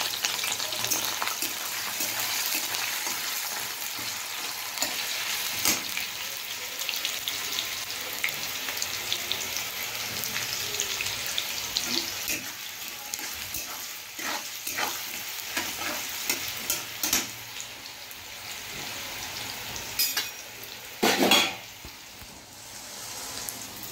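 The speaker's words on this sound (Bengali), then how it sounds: "এখন সবজিগুলো ভেজে নেব।" Peas, beans, cauliflower and carrot fry lightly in a pan with a steady sizzle, broken now and then by scraping stirs and a few sharp clatters, with no talk.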